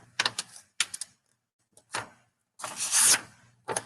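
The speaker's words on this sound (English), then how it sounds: "You're going to just fold it in half." A sheet of purple paper folded in half into a card, several close crisp crackling and rustling bursts separated by quiet gaps, ending in a longer crinkling sweep.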